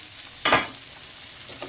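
Par-boiled young jackfruit and potato seasoned with salt and turmeric frying in oil, a soft steady sizzle with one brief louder stir or scrape.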